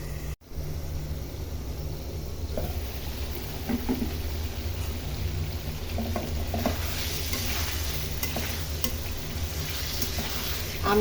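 Papaya curry sautés with spices in a pan, a soft steady frying hiss broken by stirring scrapes and light clinks throughout, with no voices.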